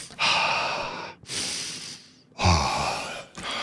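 Heavy, loud breaths pushed straight into a close microphone come in three long rushing bursts with short pauses between them, as slow, rhythmic diaphragmatic breathing.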